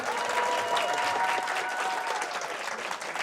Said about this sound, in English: Can we give him a round of applause for that?